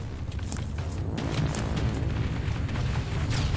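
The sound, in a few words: explosions in the video game Terminator: Resistance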